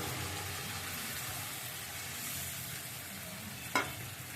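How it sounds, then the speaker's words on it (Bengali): Hilsa fish frying in a pan sizzles steadily as gravy is poured in, a continuous close hiss with a short clink near the end and no speech. "এবার মাছের ভিতরে আমি ঝোলটা দিয়ে দিচ্ছি"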